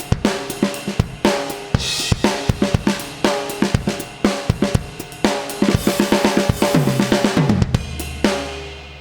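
A Soundtoys Devil-Loc distortion plugin on its Touch of Evil preset, crunch just under 3 and no crush, smashes a punchy rhythm loop into dense, gritty, compressed hits that pound steadily for nine seconds before settling into a low sustained drone.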